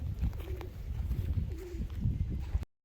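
Pigeons cooing near their loft, a couple of soft low coos over a rustling, muffled background, close and moderately quiet.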